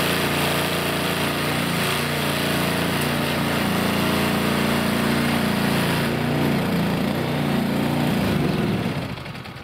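A petrol snow blower clearing snow drones steadily with a loud, buzzing small-engine hum for nearly ten seconds before the note drops away at the end, close by and with no voices.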